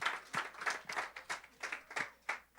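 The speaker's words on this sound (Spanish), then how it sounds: "Dale un aplauso al Señor, se lo va a dar," A church congregation clapping in rhythm, quiet and somewhat distant, with a steady beat of about three claps per second.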